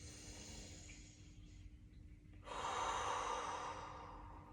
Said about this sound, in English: I want you to take that nice deep breath into your belly